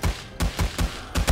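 Gunfire in the zombie survival game 7 Days To Die rings out as five loud, sharp shots at an uneven pace, each a hard crack with a short ringing tail and no voices over it.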